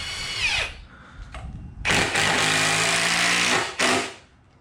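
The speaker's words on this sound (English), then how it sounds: "I'm gonna go from the outside in with my construction screws to hold the shelf bracket." Power driver sinking construction screws into a wooden shelf bracket for a backyard firewood rack, two short bursts then a long loud sustained whir as a screw drives in, close up.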